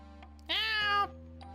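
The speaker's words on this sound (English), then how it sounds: "The first cat I approach is very friendly with beautiful calico markings. It comes towards me, already purring." A calico American Shorthair cat in the video game Purrfect Date gives a single clear, rising meow, loud and close, with a faint steady background hum.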